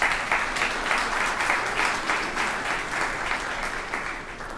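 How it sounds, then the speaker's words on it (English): An audience applauds at a university sports hall of fame induction ceremony, a dense wash of clapping from many hands that gradually fades. "ladies and gentlemen, one more applause for Tom Lepper."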